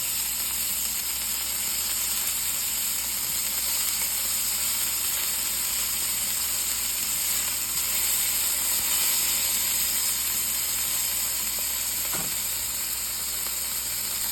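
Deer steaks sizzle in a hot pan with a steady, loud frying hiss that runs unbroken throughout, plus a faint clink near the end.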